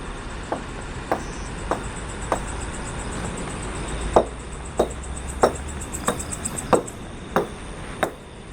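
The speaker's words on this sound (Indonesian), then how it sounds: "Suara ketukan berasal dari mana ini?" Sharp, isolated knocks tap out at night in a quiet setting, roughly a dozen evenly spaced hits over several seconds, with a few louder ones near the middle against faint background hiss and no voices.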